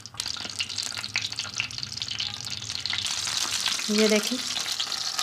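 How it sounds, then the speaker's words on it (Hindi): Fish fries in oil in a pan on medium-low heat, a close, steady sizzle that swells slightly as a cover goes on, with a brief spoken remark over it. "अब हम इसमें फ़िश को फ्राई करेंगे और कवर कर देंगे।"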